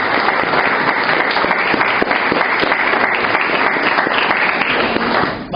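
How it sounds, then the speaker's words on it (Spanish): A church congregation gives a loud, dense welcoming applause, sustained close clapping filling the room throughout before dropping off abruptly at the very end. "Démosle ese fuerte aplauso de bienvenida."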